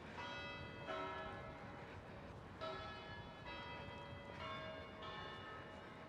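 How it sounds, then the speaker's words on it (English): Church bells ring for seven o'clock over a Singapore waterfront city walk near Marina Bay and Boat Quay, a layered metallic tolling that repeats in overlapping peals, moderately distant against steady urban ambience. "The bells ringing for 7 o'clock."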